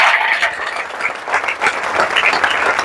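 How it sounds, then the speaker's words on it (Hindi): A seminar audience claps loudly and steadily in dense, sustained applause for the whole stretch, with faint crowd murmur mixed in. "जेपी सर के लिए हाथ ऊपर करके एक बार जबरदस्त ताली बजा दीजिए सर"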